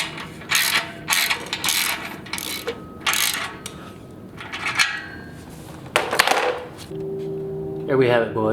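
Hand ratchet tightening the mounting bolts on Rinehart Racing slip-on exhaust mufflers fitted to a 2017 Victory Octane motorcycle, giving several short bursts of rapid clicking separated by pauses, close to the microphone, with someone talking briefly near the end.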